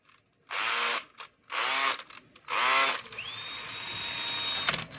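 A DeWalt DCD710 10.8 V cordless drill runs in three short, loud bursts close by, each with a rising whine, followed by a steady high-pitched motor hum that carries on to the end.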